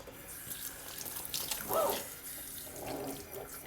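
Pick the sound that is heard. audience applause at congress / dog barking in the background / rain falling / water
water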